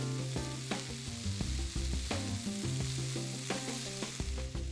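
Beans and soft onions and garlic sizzle and fry in a pot as they are stirred, with a steady crackle and repeated spoon clatter. Close and moderately quiet, with no voices.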